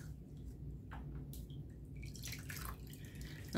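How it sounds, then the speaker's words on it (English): Water drips and trickles softly as a cleaning cloth is dipped in water to wipe laminated savings-challenge sheets, a faint, close patter of a few drops with no talking. "Dip it in some water"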